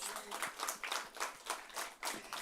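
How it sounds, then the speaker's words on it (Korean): A church congregation claps in uneven bursts at a New Year's Eve service, a group applauding together, moderately distant and fairly quiet. "하나님께 박수합시다"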